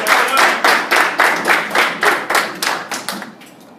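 Rhythmic group clapping for a student at a middle school presentation, about a dozen crisp, evenly spaced claps in unison, loud and close, fading slightly at the end with no talk over it.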